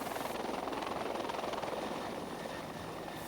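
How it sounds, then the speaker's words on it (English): A small helicopter that seats up to six people flies by, its rotor blades beating in a fast, steady chop over a broad engine whine, moderately loud and with no voices. "Helicopters like this one can carry up to 6 people."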